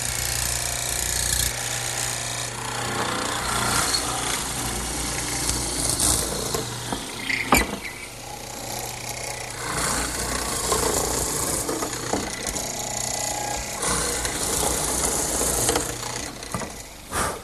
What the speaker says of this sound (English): I've set up my mortiser with a 1/2-inch chisel, and to the depth I want.